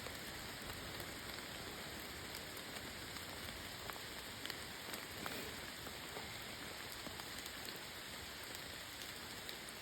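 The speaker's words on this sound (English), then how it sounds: "I feel like I would have preferred for the heavy rain to start after I had my tent set up" Heavy rain pours steadily on the Appalachian Trail during a summer thru-hike, a dense, even hiss with scattered close drop impacts and no voices.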